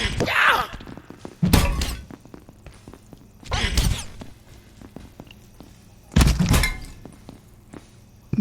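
A stick clubs aliens on the head in Abiotic Factor, landing as heavy, crunching thuds with a breaking edge, about four hits spaced several seconds apart.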